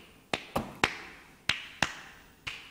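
Six crisp sampled hand claps play from a Casio WK-240 keyboard in a slightly uneven rhythm, bright and fairly loud, each with a brief decaying tail and no speech.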